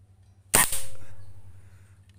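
One air rifle pellet shot in a target grouping test, a crisp nearby crack and a quick second impact, then a thin ringing tail that decays steadily against a low background hum.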